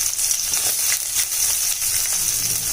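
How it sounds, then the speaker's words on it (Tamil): Onions and green chillies fry in hot oil with a dense, steady sizzle that holds at an even level throughout, close by and with no voices. "வெங்காயத்தை நல்லா வதக்கிக்கலாம்."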